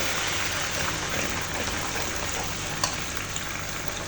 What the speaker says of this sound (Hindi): अब मैं इसमें टमाटर की प्यूरी भी शामिल करने लगी हूँ।